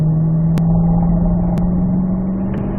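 A Corvette accelerating out of a corner on a race track, a steady loud engine drone with a rising pitch, heard close from inside the car.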